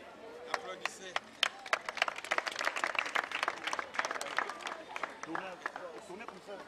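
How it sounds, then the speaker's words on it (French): Children on an outdoor school hike clap together in a dense, steady patter of applause that stays fairly faint and distant throughout, with lively crowd noise mixed in. "Applaudissez."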